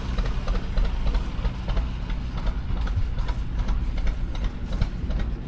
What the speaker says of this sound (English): They're getting the threshing machine set up. Gotta line the tractors up just right.